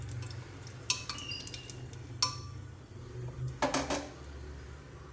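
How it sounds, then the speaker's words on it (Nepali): Chillies and panch phoron sizzle in hot oil in a pan under a low steady hiss, while a utensil clinks sharply against the pan a few times as the spices are stirred. "अब खोर्सानी र पाँचफोरन रातो हुन्जेलसम्म एकछिन चलाउँछु म"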